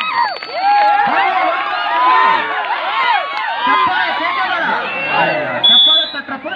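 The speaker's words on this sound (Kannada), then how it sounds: "ಚಪ್ಪಾಳೆ ಬರ್ತಾ ಇದೆ ಒಬ್ಬಾಪುರದವರಿಂದ" A crowd at a village kabaddi match between Kalakeri and Obalapur claps and cheers, a dense continuous roar of shouts and whoops with children's voices, loud and close, under an excited commentator's voice.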